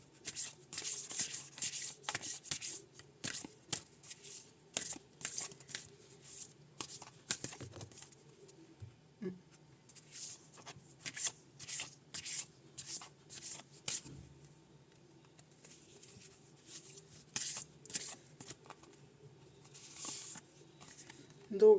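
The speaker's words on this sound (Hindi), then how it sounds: "एंड थोड़ा सा इसमें से मैं 3 कार्ड्स निकालूंगी।" Tarot cards being shuffled by hand before a three-card draw: repeated soft, quick riffling and rubbing bursts in an irregular rhythm, close and fairly quiet, with someone speaking at times between them.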